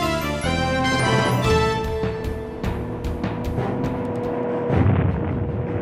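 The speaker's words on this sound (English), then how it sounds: "the thunderous report of big guns" Big artillery guns fire in a sustained barrage of heavy booms and rumbling reports, loud and continuous, with layered blasts overlapping and a strong low-end roar.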